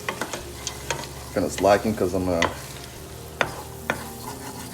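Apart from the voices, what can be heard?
stirring bacon bits in pan with wooden spoon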